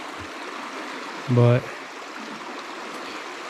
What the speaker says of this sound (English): some kind of creek. It's got good flow to it